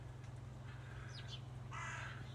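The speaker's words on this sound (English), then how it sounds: "Sounds like crows are around." Crows caw faintly a couple of times in a garden, brief calls heard from a distance over a steady low hum.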